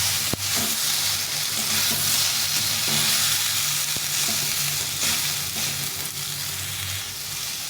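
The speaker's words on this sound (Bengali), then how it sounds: "লবণ দিয়ে দিলে পরে টমেটোটা নরম হয়ে যাবে এভাবে ভালো করে ভেজে নিতে হবে" Tomatoes with salt frying in a pan, a loud continuous sizzle close by with a sharp click at the start and faint scrapes of stirring.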